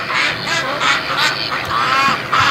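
Wintering ducks and geese on snowy ground give a loud, close run of repeated quacks in quick bursts, with honking mixed in and no talk.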